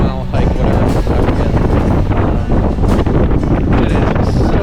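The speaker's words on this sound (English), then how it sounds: "It is so windy up here right now" Strong wind buffeting the microphone on a hiking summit at Pole Steeple, a loud, gusty roar and rumble that surges and dips throughout with no calm between gusts.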